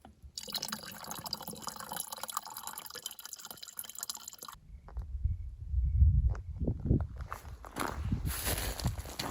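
A small flowing stream along a desert hiking trail in Arizona burbles and trickles close by, at first under a steady hiss, then as clearer splashing and dripping water with some footstep-like thuds.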